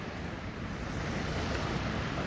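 Steady surf and ocean wash along Lanikai Beach on Oahu, Hawaii, at sunrise, a continuous broadband rush with some wind buffeting the microphone and no voices.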